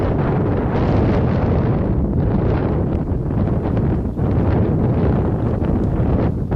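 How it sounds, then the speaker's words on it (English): Strong wind buffets the microphone in a constant loud rumble with gusty surges, no voices, among cottonwood trees at Pueblo Reservoir, Colorado. "Kind of windy today too"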